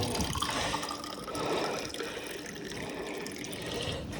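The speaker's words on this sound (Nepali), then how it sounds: "सो पानी यसरी झर्दो रहेछ।" Water pours steadily from a tap at the Ilam project, a continuous close splashing stream with light dripping and no talk.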